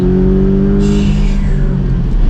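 A Porsche sports car on Madeira Island revs hard nearby, its engine note climbing and then easing back in a loud, sustained roar with no talk over it.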